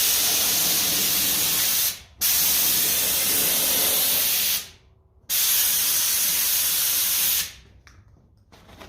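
A spray gun coats the wheel rims of a 1954 Ferguson 20 TEF diesel tractor in three long, close, steady hissing bursts, each cut off sharply before the next begins.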